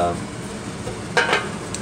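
Pot of menudo with hominy cooking on the stove, a soft bubbling simmer with a couple of brief clinks and scrapes from a spoon or lid near the middle.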